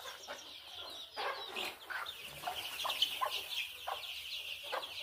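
A flock of about 100 young poultry birds, around 25 days old, clucking and chirping continuously on a farm with a former cattle enclosure, moderately close and steady, with no talk.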